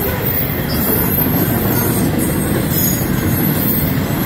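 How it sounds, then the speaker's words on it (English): A CN freight train carrying continuous welded rail rolls past at Ladysmith, a loud, steady rumble of wheels on track with faint squeal, filling the whole clip without pause. "it's a continuous welded rail train."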